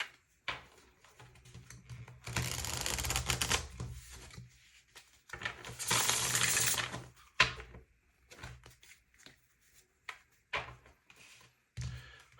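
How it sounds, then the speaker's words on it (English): A deck of tarot cards is shuffled in two longer riffling bursts, with scattered softer taps and shuffles of the cards in between. No voices are heard. "I feel like giving this deck a good shuffle."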